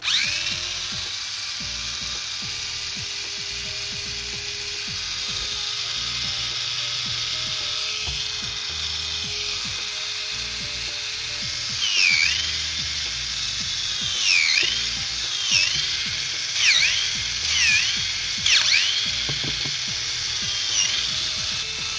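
A small Mini 4WD toy car electric motor whines continuously at a high pitch, rising and falling in short revving bursts toward the end, without speech.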